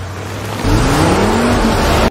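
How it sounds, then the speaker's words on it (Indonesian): Cars race past at speed during a chase, with loud engine roar that swells and holds for about two seconds. A rising engine whine sweeps upward before the sound cuts off abruptly. "Dan saat mereka melaju, beberapa mobil mulai mengejar mereka."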